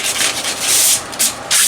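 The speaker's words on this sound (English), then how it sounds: "So light sanding helps that make sure that the corners are" Light sanding of wood, with short rasping strokes that start and stop in an uneven rhythm, close and fairly loud.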